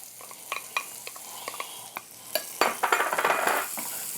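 Onion and garlic stirred into bacon in a pan: a run of light spoon taps and scrapes, then a louder burst of sizzling as the mix is turned, close and without speech.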